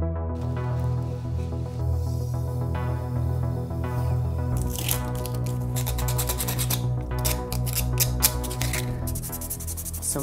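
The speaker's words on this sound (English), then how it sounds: "So much sanding." Someone sands a detailed apple model drawn in plastic with a 3D pen. It begins as a soft rubbing under steady background music, then turns into quick, rhythmic rasping strokes that grow busier and louder.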